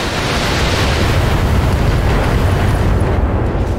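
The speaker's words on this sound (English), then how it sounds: "We got an ammo explosion." A mech's ammunition explodes in a BattleTech battle, a loud, continuous, roaring blast that rumbles heavily and stays dense for several seconds, close and overwhelming.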